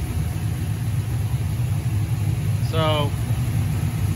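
An LS-swapped Camaro engine idling with a steady, low, rumbling drone throughout, close and constant, while someone speaks briefly near the end.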